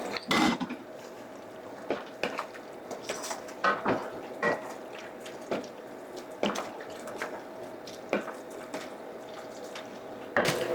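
About a cup of ricotta cheese is stirred into a skillet meal over low heat, a spoon scraping and clinking against the pan in irregular strokes with short pauses, close and fairly quiet, no talking.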